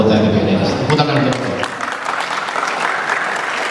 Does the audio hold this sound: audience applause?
yes